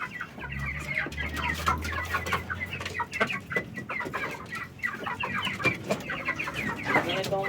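Free-range chickens cluck busily at feeding time on a semi-organic farm, with many overlapping clucks from several birds, fairly close and continuous, and a low mechanical hum briefly underneath at the start.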